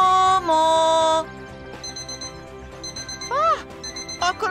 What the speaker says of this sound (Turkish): Akıllı tavşan alarmı.